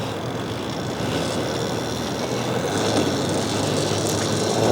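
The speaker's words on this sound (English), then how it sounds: "I give it a little bit too much throttle, and so you'll hear it kind of like jerk back a little bit too quickly" An EBOX Dragster electric mini bike with a wheelie bar pulls under throttle, giving a steady, loud whirring drone that swells slightly toward the end, with no talk over it.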